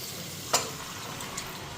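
Spices fry in a pan with a steady soft sizzle, broken by one sharp tap of a utensil and a fainter click later.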